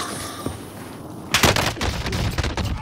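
Rapid automatic EM2 rifle fire in Call of Duty Warzone, a dense burst of loud shots starting abruptly after a quieter stretch and continuing as ragged gunfire to the end.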